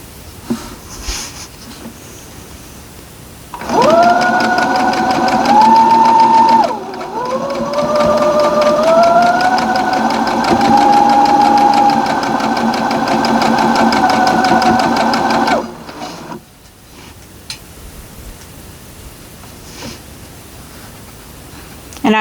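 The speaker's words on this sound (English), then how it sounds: "we're going to sew these 2 together" A sewing machine stitches quilt units together for a Halloween BOO quilt, running in a steady close mechanical whir for about twelve seconds with a short pause partway through, set between quieter stretches of handling.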